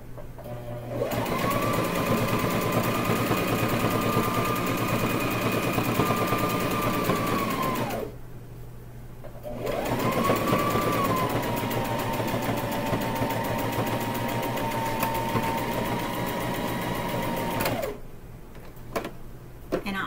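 A sewing machine stitches a rag quilt in two long, steady whirring runs, close and loud, with a brief pause between them and a short burst at the end.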